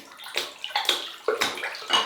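A soft synthetic-knot shaving brush being wet under running water, a steady splashing flow with several louder gushes as the brush is moved through the stream, close up and without talk.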